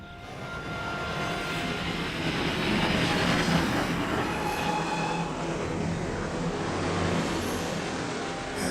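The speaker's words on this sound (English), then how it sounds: "Have the conductor stop the train just ahead. It's as far as we can travel by train." A train travelling on railway tracks in an 1860s-era film setting, a steady, loud rumble of wheels and carriages that swells slightly midway and continues alone without talk.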